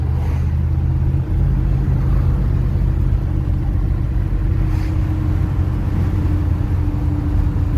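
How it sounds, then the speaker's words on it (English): A 1973 Dodge Ram 100 truck engine braking, heard as a steady loud low rumble with a droning hum from inside the cab, continuous throughout with no talking. "We're doing engine braking now."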